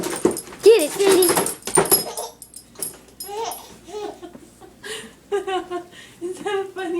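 A playful dog makes funny whimpering yips and squeaky vocal noises near a laughing baby, in short irregular bursts, with adults talking over it.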